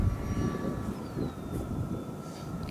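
An E-flite Habu SS 70mm EDF model jet flies overhead on its maiden flight, its ducted fan whining steadily at middle distance. Outdoor wind noise buffets the microphone throughout.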